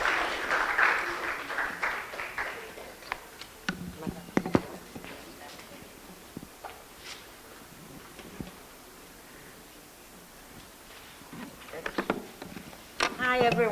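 A lecture audience claps to welcome a university's public affairs director. A short burst of moderate applause comes at the start and fades into scattered claps, footsteps and rustling, with more clapping near the end.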